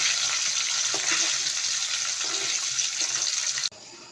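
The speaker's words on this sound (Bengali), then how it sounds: "এখন আমি মাছ ভাজবো" Small mola fish frying in hot oil in a home kitchen, a steady loud sizzle with no voices that runs evenly for several seconds, then cuts off abruptly near the end.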